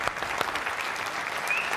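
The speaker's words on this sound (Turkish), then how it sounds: "Selçuk hocama ve bu değerli orkestraya sizlerden alkış istiyorum" Brief burst of audience applause for an orchestra at a televised pop singing competition, steady and close-packed clapping from a crowd for under two seconds.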